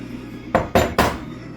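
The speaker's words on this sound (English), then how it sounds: "Then I'm going to add in 4 eggs." Eggs cracked against a mixing bowl for keto banana bread: three sharp, close cracks evenly spaced about a quarter second apart, in a quiet kitchen with no talking.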